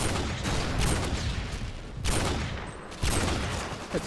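Gunfire from Call of Duty Modern Warfare 2 during an online match: a steady barrage of rapid shots with a few sharper, louder bursts, loud and continuous for about four seconds.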